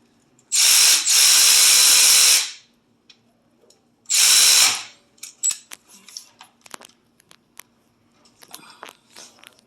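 Oil drain bolt being reinstalled on a Kawasaki Ninja 650R motorcycle, heard as two loud, close bursts of fast ratcheting or powered tool whirring, followed by scattered light metallic clicks and taps.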